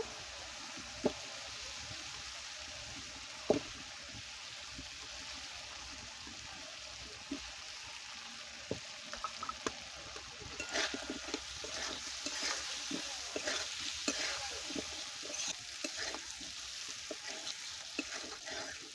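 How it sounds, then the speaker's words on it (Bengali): Spice paste with raw tomato and a splash of water cooking down in a pan for a silver carp curry, giving a steady soft sizzle with scattered spatula scrapes and clicks, busier in the second half. "অল্প একটু জল দেব, দিয়ে মশলাটাকে ভালো করে কষিয়ে নেব।"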